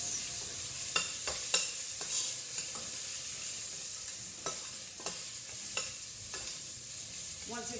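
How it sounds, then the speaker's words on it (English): Ginger and garlic paste being stirred into a frying chicken curry, with a steady sizzle beneath repeated spoon scrapes and knocks against the pan, close and moderately loud, no talking. "we're going to put all of that in and give it a really good mix"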